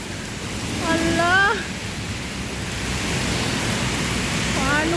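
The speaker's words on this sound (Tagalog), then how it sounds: "Lakas po guys, oh. Ayan, oh. Lakas ng ulan." Heavy rain pours down in a steady, loud hiss, with a person briefly speaking over the downpour.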